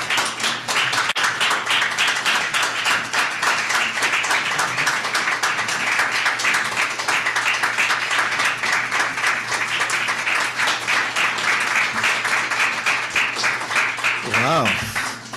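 Loud, sustained applause from a Rotary District 6450 gathering welcoming District Governor Ade Onayemi, dense clapping filling the room without a break, with a brief voice near the end.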